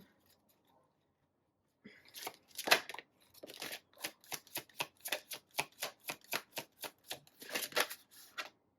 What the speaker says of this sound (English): I'm just going to put the cards out and then I'll decide where they go.